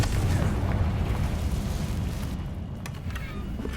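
A Confringo explosive spell blast from the video game Hogwarts Legacy: one loud, deep rumbling boom that holds for a couple of seconds, then slowly fades, with no talking over it.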